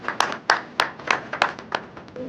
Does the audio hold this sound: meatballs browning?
no